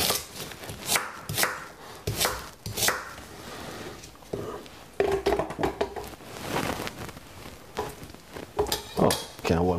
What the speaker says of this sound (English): The original way is grate your carrot.